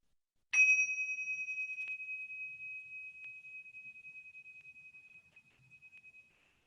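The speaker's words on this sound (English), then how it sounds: "when you hear the bell, we'll bring this practice to a close" A meditation bell struck once to end a practice, giving a clear bright ring that sustains and slowly decays over several seconds in near silence.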